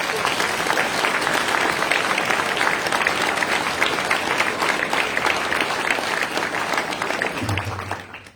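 Applause from an audience at a New Year's greetings ceremony, dense sustained clapping from a large crowd that holds steady for several seconds and then fades out.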